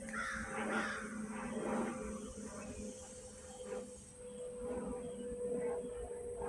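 Crows caw in the woods, repeated calls carrying faintly at a distance over a steady background hum.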